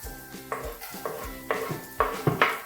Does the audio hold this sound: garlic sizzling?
yes